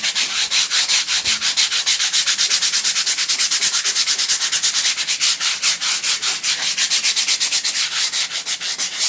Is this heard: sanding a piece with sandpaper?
yes